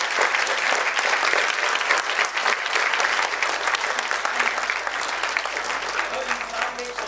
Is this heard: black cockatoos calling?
no